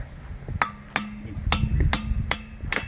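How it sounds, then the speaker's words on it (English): Sharp metallic hammer strikes ring out about six times at an uneven, steady pace, each blow clanging as rebar is driven into a drilled hole up close. "You have to hammer it in."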